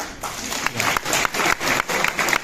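An audience at a college cultural celebration claps steadily and loudly, the applause continuous for a couple of seconds with sharp bursts of hand claps throughout.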